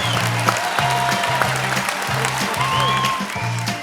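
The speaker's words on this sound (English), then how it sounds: "Big applause, everybody." An audience applauds to welcome a guest singer onto a show stage, steady clapping over a rhythmic backing music beat, with no talking.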